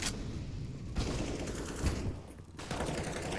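MAG-7 shotgun fire in a competitive online shooter match, sharp bursts and reports layered over dense battle noise and explosions, loud and continuous with brief gaps.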